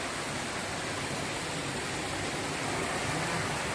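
Water pours out of rock crevices at a cave temple in Saraburi during the rainy season, a constant rushing wash heard up close with no voices.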